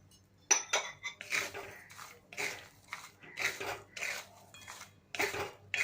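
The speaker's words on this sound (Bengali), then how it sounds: "এবার এর মধ্যে অল্প অল্প করে বাদাম দিতে হবে।" Peanuts are tipped into a pan of hot salt and stirred, giving bursts of gritty scraping and rattling against the metal, separated by short pauses, close and fairly quiet.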